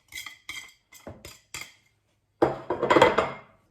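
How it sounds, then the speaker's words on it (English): Metal utensil knocks five times on a bowl rim, then baking soda and powder are scraped and stirred into brown bread dough with a brief clattering rasp. "So I'm going to add the soda and powder and mix that in as well."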